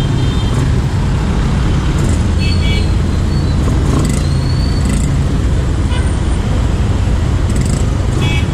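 Heavy road traffic rolls past continuously on a congested street where parked cars have eaten up one of two lanes, with a truck's deep rumble and brief air-brake hisses standing out and faint voices in the background.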